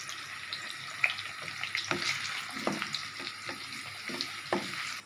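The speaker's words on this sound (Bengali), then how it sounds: "আলুটা ভাজছি এবার আলুটা ভাজা হচ্ছে দেখো" Potatoes sizzle and crackle in hot oil with a steady hiss, broken by intermittent stirring clicks and scrapes, close up and without speech.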